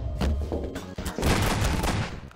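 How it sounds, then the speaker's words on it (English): Heavy gunfire and explosive booms from a rocket launcher in a multiplayer video game, a dense continuous barrage of blasts that is loud and close throughout. "Rocket launcher"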